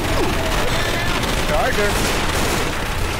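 Gunfire in the zombie shooter Left 4 Dead 2, rapid continuous shots rattling through a dense, loud battle mix, with a player calling out over the shooting.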